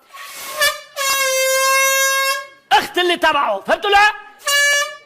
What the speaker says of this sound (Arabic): أنا عم زمر لتعرفوا إنه أنا صفيت بنص الشارع